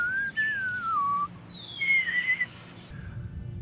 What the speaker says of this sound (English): trying to whistle.